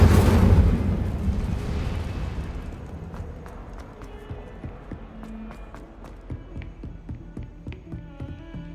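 A fiery Incendio spell is cast in the Hogwarts Legacy video game, opening with a loud whooshing burst that fades into a quieter, crackling tail of small pops and clicks.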